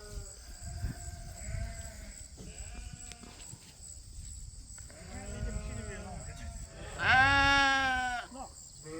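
A starter flock of sheep bleating outdoors on a farm, several moderately close calls including one loud drawn-out bleat near the end, over wind and faint background noise.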